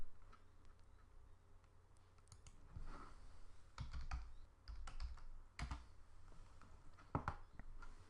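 Quiet, close computer-keyboard typing in short irregular bursts of clicks, with a few sharper keystrokes, as width and height values are entered for a map element in a web application.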